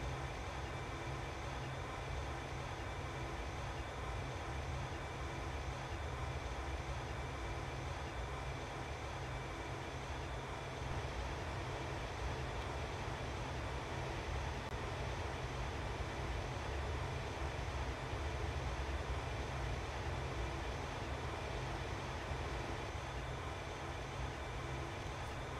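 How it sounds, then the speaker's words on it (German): An ÖBB CityJet electric train in Train Simulator, made by RSSLO, runs along with a continuous, even rumble and hum that holds at a steady level throughout, with no voices. "Übrigens stammt der Zug von RSSLO und nennt sich ÖBB CityJet"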